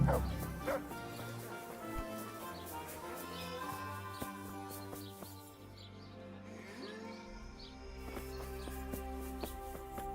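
Dog barking in the medieval role-playing game Kingdom Come: Deliverance, a few short barks and yips rising over a steady bed of game music and ambience, moderately close.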